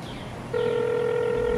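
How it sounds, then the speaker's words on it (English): A telephone ringing tone during an outgoing call, a steady electronic tone that starts abruptly and holds loud and close, with no talk over it. "All right, Jeffy, I'm calling the cops. It's ringing."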